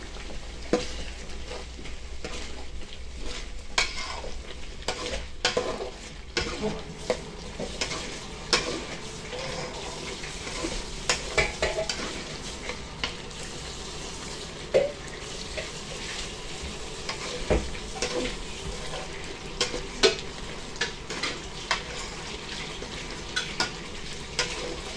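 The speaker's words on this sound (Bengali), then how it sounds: "মশলাটা কষানো হয়ে গেছে" A spice paste fries in a pan for a fish curry, giving a steady close sizzle with frequent sharp scrapes and taps of a spoon stirring throughout.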